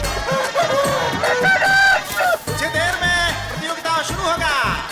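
Chickens clucking and roosters crowing at a rooster fighting competition, loud overlapping calls from several birds, mixed with a background crowd.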